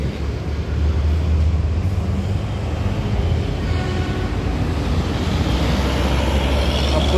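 A Handoyo bus rumbles past on the road, a loud, steady low engine drone close by with traffic noise around it.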